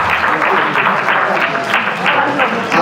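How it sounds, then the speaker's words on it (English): Audience applause from a crowd at an event, a steady dense clapping wash lasting a few seconds, loud and close, with some voices mixed in. "This is a round of applause for you."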